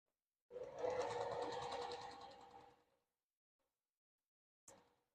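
A sewing machine runs a short top stitch on a homemade longarm quilting side clamp, a quick close whirring burst of about two and a half seconds, then silence and a brief click.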